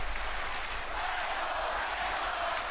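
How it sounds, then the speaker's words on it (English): Wrestling arena crowd cheering and applauding loudly for a wrestler, a dense, continuous roar of many voices heard from within the venue. "They're cheering for Penta like crazy."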